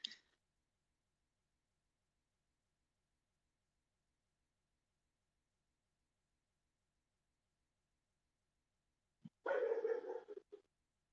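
Big dog barking at thunder, a short distant burst of a few barks near the end after long near-silence, faint and far off.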